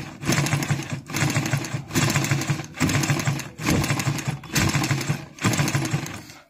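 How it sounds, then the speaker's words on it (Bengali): A sewing machine stitches cloth in repeated bursts, about seven runs of fast mechanical chatter separated by brief pauses, close and clear with no talking. "দেখেন আমি আবার সেলাই করতেছি।"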